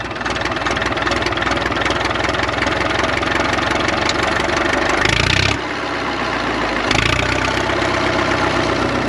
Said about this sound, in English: It's idling nice.